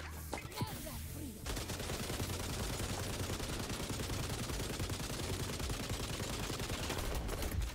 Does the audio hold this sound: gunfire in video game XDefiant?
yes